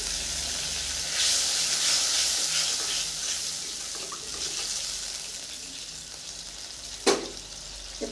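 Hot pan sizzling as water goes in for a thin hilsa fish and eggplant curry, a steady broad hiss with a brief bright splash or clink toward the end.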